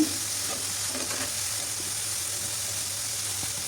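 Chopped tomatoes hiss and sizzle in hot oil alongside potatoes, eggplant and native drumstick stems, with occasional stirring scrapes over a steady, close frying crackle and a low background hum.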